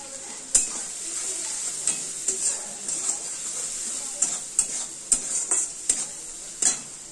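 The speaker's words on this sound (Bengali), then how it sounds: "এই মশলাটাকে ভালো করে ভাজা ভাজা করবো।" Turmeric and chili powder frying and being stirred in a pan for a home-cooked vegetable dish, with a steady close sizzle and hiss broken by repeated sharp scrapes and clinks of the stirring utensil.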